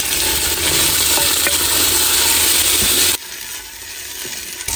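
Onions browned in a pan sizzle loudly and steadily as tomatoes, green chilies and garlic go in, with some stirring clatter, then the sizzle drops to a quieter simmer partway through.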